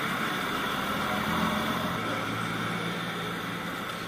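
A Yamaha FZ V3 motorcycle engine idles steadily after servicing, a constant low rumble with broadband hiss, its pitch dropping slightly midway, no talking.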